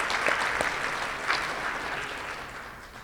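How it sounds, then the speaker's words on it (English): A room of Rotary club members applauds at their meeting to mark members' birthdays, a moderately loud, even wash of clapping with a few sharper claps near the start that slowly tapers off. "Let's give them a round of applause and wish them a happy birthday"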